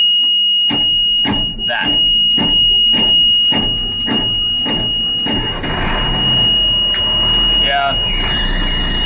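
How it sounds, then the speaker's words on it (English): A high electronic alarm beeps in a steady repeating pattern while an engine cranks and someone briefly speaks nearby. "Let's just go ahead and turn that off, that beeping."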